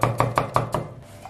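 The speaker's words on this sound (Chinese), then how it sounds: "生姜切成片" Knife slicing fresh ginger into pieces on a cutting board, five crisp, evenly spaced chops close by in quick rhythm, then a brief pause with a faint clink.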